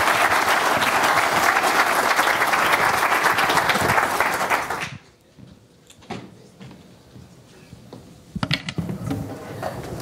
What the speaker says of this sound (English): A round of applause, please, for Baiwan.